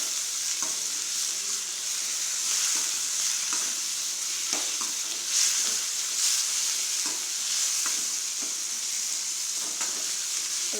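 Onions and tomatoes sautéing in oil for broad-bean sambar, a steady sizzle heard near and alone, broken by regular spoon scrapes and knocks against the pan.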